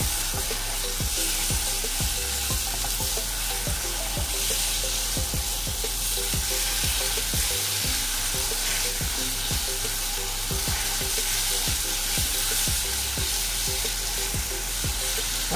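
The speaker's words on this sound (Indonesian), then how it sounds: "Gaul adunan rempah ini." Beef and kurma spice paste stirred in a hot pan for beef kurma, a steady sizzle and frying hiss with regular scraping strokes of the spoon, close and continuous, no talking.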